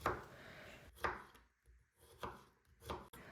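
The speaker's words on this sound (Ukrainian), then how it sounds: "Беру також свіжий огірок і так само нарізаю невеликими шматками." A few crisp knife chops through fresh cucumber against a cutting board, spaced unevenly with short pauses, close and fairly quiet.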